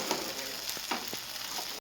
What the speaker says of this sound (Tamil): இடி மீன் வாங்கிட்டு வந்து வறுக்கிறாங்க